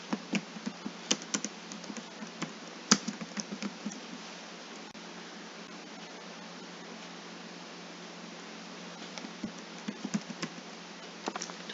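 Rapid, irregular clicks of a computer keyboard as a name is typed, with closely spaced keystrokes over a steady background hiss and no talking.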